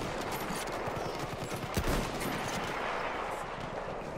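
Lee-Enfield rifle fire in the shooter Call of Duty: Vanguard, with shots cracking amid a dense, noisy battlefield of other gunfire, fairly loud and continuous.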